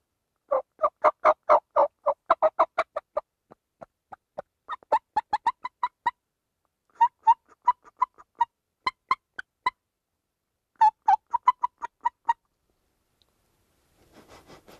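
Wild turkeys gobble in several rapid rattling bursts, loud and close, separated by brief pauses, with faint clucks near the end.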